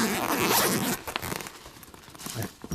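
A zipper is pulled open on a zippered Sonic the Hedgehog Sound Zone case, loud and close for about the first second, followed by quieter rustling and handling noises.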